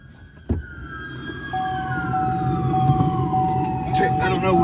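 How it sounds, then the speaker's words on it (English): A siren wails from a distance, its pitch sliding slowly downward, with a steady tone and traffic rumble underneath and voices chattering nearby. "There goes all the sirens."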